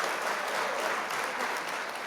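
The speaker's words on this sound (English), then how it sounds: "let's clap it up for all the progress that you've been making" Audience applause fills the whole stretch, a dense, even patter of many hands clapping that stays steady and fairly close, with no voices over it.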